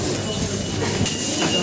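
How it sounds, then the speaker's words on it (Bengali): A Kolkata Metro train rumbles through an underground station, with a faint screech of wheels and a steady, loud roar throughout this short moment. "এটা হচ্ছে কলকাতা মেট্রো স্টেশন।"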